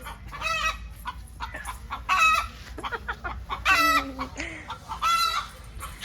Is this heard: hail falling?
no